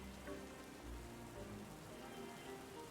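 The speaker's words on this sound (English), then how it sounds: "could this rain like actually stop?" Steady rain falling in a Pokemon video game, a dense, even patter that continues throughout at moderate volume with no voices.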